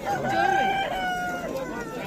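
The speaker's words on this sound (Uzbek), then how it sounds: "Tovuq emas, xo'roz bu." A rooster crows at a Samarkand bird market, a rising then falling cry that carries across the two seconds beneath busy market chatter and nearby voices.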